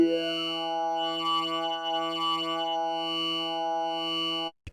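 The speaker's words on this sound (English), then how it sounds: "I will modulate that with the mod wheel, so I can choose when that comes in" A layered Omnisphere 2 synth pad with a modulation depth brought in by the mod wheel, sustaining a rich harmonic drone with swirling chorus-like movement before cutting off abruptly near the end.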